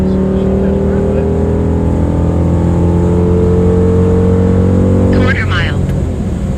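A 2006 Chrysler 300 SRT8 launches down a quarter-mile drag strip, its engine roaring loud and close with a steady, rising drone that holds throughout and ends in a brief rush of wind near the finish.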